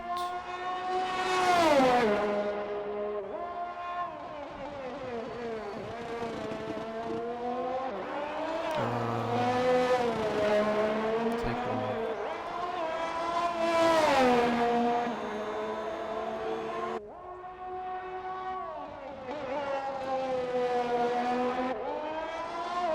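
Race cars lapping in a racing video game in Australia, high engines revving and shifting through gears, pitch climbing and dropping repeatedly, with a Williams among the cars, a loud continuous drone close up and no talk over it.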